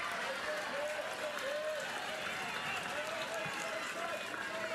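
Crowd at a Little League World Series softball game, a constant, fairly loud mass of voices and cheering from many people, with commentators talking over it.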